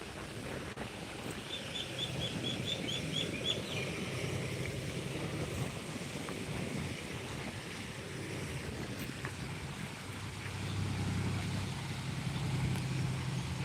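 Strong wind blusters steadily against the microphone, a continuous low rumble with a faint chirping bird early on.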